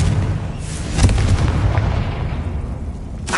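An explosive blast from the Confringo spell in a Harry Potter video game, a sharp boom followed by a rumbling, crackling decay, loud and close.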